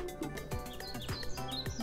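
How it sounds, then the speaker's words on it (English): Birds chirp in a jungle, with short, high tweets repeating over a steady bed of layered tones and rhythmic music-like sound, all at moderate, even loudness. "Birds were chirping from the trees in the jungle."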